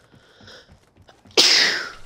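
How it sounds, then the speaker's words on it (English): A single sharp sneeze from a character in Apex Legends bursts out loud after a quiet stretch of faint game sounds, then trails off quickly. "Darn sneeze."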